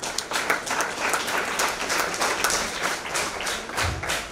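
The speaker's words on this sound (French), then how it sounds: "Je vous prie de les applaudir" Applause from the audience at a certificate ceremony, many hands clapping in a steady, dense patter that holds evenly for the whole stretch, with a few heavier thumps near the end.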